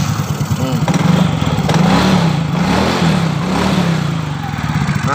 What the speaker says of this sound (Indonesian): coba kita cek untuk kita hidupkan apakah sanggup dia injektornya menghidupkan motor ini